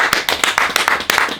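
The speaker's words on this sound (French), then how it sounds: "On l'applaudit quand même ou pas? pour la course." Applause for a runner finishing a race, a brief burst of several hands clapping in an uneven rhythm, fairly close and loud.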